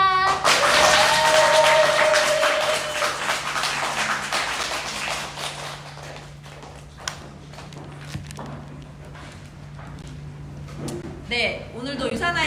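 Audience applause in a hall after a lecture at a business presentation in Mokpo: dense clapping fills the start, then thins and fades into scattered claps and light noise, with a steady low hum underneath.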